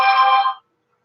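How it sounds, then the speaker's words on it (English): A mobile phone ringtone plays a brief bright electronic tone burst for about half a second, close and fairly loud, then cuts off into silence. "evil phone making noises"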